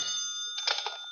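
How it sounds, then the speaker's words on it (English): A telephone rings in an old-time radio detective drama, a bright, continuous electric bell trill heard close and alone, with a brief rattling burst partway through. "that's my phone. May I answer it?"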